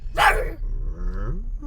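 Dogs barking close by, a loud burst of barks followed by a drawn-out, wavering growl or whine.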